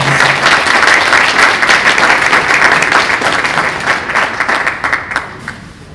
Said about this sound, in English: welcome Mr. Jason Gore, round of applause.